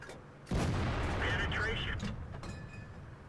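A tank cannon fires in World of Tanks, from a T110E5, with one loud boom at the start that trails off into a long rumbling tail and clatter.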